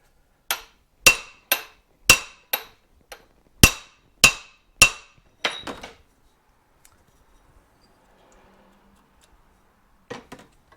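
Hammer blows driving a seized piston out of a 1973 Suzuki TC125 motorcycle engine held in a vise: about eleven sharp, ringing metal strikes in a quick steady rhythm, then a pause and two more hits.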